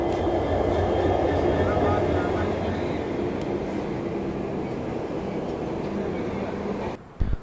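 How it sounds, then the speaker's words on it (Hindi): The New Delhi–Dibrugarh Rajdhani Express, train 20504, pulls away from a station with a loud, heavy rolling rumble that slowly eases off, ending in a couple of sharp knocks nearby. "20504 राजधानी एक्सप्रेस का डिपार्चर उस तरफ हो गया"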